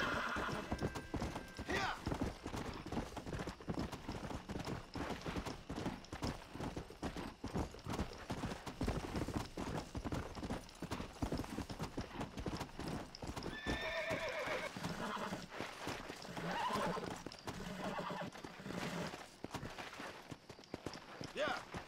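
Horse galloping in the video game Red Dead Redemption, a fast continuous clip-clop of hooves close up with occasional whinnies, steady and loud, with a voice talking over it at times.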